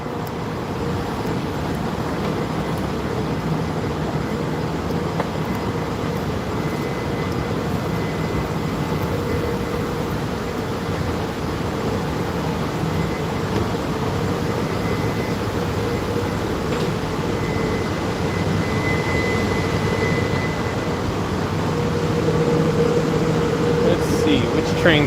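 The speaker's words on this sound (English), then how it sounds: "Oh, the train's here, so it just hasn't departed yet." LA Metro train idling at a station before departure, a steady low hum with faint tonal whines and ambient station noise throughout, unchanged over the whole stretch.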